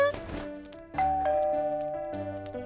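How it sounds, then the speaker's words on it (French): A two-tone doorbell chimes in a French animated cartoon, a bright ding followed by a sustained dong that rings out clearly with no one talking. "ça sonne à la porte. La sonnette"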